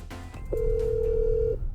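A telephone at a traditional sesame oil mill rings with one steady electronic tone lasting about a second, loud and close, after a brief clatter of background noise.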